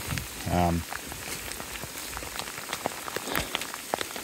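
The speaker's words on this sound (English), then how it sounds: "Like, this is a lot of rain." Steady heavy rain pattering on a surface on the Appalachian Trail, dense and close, with a brief voice-like sound near the start.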